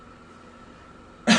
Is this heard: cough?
yes